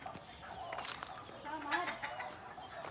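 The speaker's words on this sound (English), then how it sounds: "Chicken, ah, look at the chicken." Chicken clucking outdoors at a house-building site in the Philippines, a few short clucks rising over steady background noise, with a person speaking nearby.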